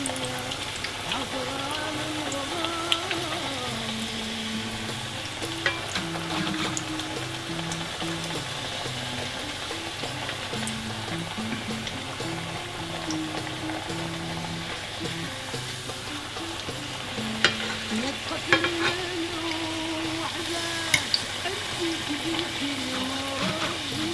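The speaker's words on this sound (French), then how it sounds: "quand on met la pâte dans l'huile" Fazuelos dough frying in hot oil, a continuous busy sizzle and crackle with scattered pops, steady and close for the whole stretch, with faint music in the background.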